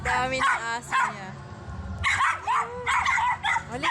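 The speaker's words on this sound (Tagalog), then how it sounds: "Ang dami ng aso niya." Several dogs bark and yip in quick bursts nearby, with short gaps between volleys and a little whimpering mixed in.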